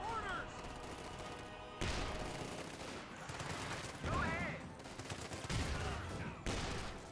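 Rifle fire and grenade blasts from infantry combat in a strategy video game, with repeated bursts and explosions layered over a busy battle mix, loud and continuous with commentary-like voices faint underneath.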